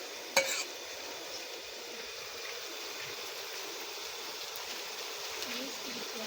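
Garlic paste frying in a pan for biryani, giving a steady, even sizzle and hiss with one sharp clatter of the utensil near the start, close and alone without talk.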